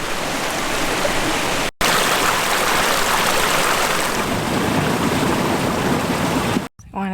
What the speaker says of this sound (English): I'm sure you can hear this water.